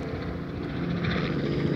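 A helicopter's rotor thrum and engine drone fill the air continuously, fairly loud and steady as it passes overhead.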